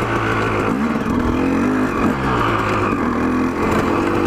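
A two-stroke dirt bike engine, meant for trail riding, idles and runs steadily at low RPM, loud and close, with a continuous buzzing drone and slight rises in pitch, no talking.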